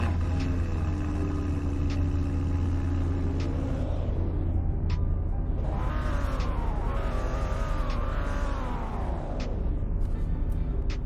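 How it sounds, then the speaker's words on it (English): An Audi S6 idles with a steady low rumble and then revs, its engine note rising and falling in repeated sweeps amid a busy outdoor car meet, with no talk. "now Selena, start up and rev your Audi S6"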